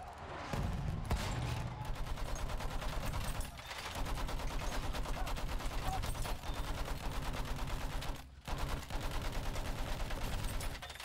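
Rapid bursts of gunfire and explosions from Battlefield 1 combat rattle on almost without a break for the whole stretch, with a mortar among the weapons, pausing only briefly twice.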